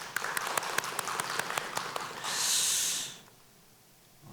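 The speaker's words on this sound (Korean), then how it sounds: "우리 하나님께 영광의 박수 올려드리겠습니다." A church congregation gives applause of praise during a Sunday worship service marking the church's 51st anniversary: scattered single claps give way to a short, fuller burst of clapping, fairly faint, before things fall quiet.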